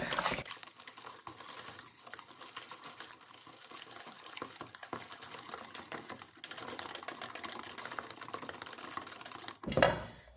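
Carrot cake batter with vanilla being mixed in a bowl, a steady rapid clicking and whirring that runs throughout at moderate level, ending in a louder clatter.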